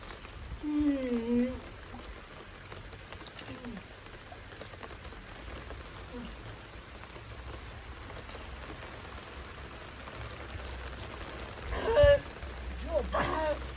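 Steady rain falling outdoors, a soft continuous patter throughout, with brief faint vocal sounds near the start and a short louder burst toward the end.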